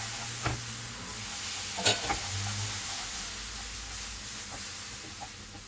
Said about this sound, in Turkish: Şerbeti dökerken hızlı hızlı karıştırmamız gerekiyor topaklanmaması için.